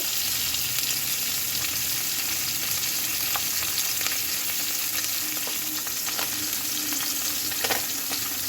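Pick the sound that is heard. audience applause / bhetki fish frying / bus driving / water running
bhetki fish frying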